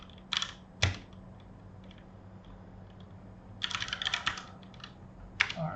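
Keystrokes on a computer keyboard as a Linux unzip command is typed for a SonarQube install on AWS, in short bursts of clicky taps separated by pauses, close and fairly quiet, with no talking.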